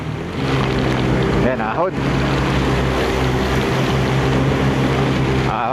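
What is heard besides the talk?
strong wind blowing during a ride in Baguio City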